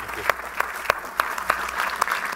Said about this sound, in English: Please give a round of applause to Cristina, David, Rita, and Eelco.